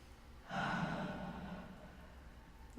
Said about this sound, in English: Let's breathe that in.